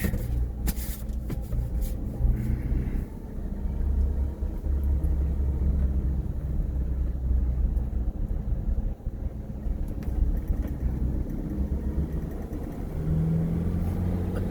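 A car's young, not yet broken-in engine runs during a relaxed test drive on a nice day, a steady low rumble with road and cabin noise throughout, no talking.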